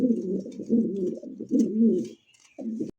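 Lahori pigeons coo in low, rolling bursts close by, a steady run of throaty calls that pauses briefly near the end before one more short coo.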